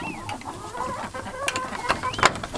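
Backyard chickens cluck and chatter up close on a winter storm day in the Shenandoah Valley, a busy run of short calls rising toward the end.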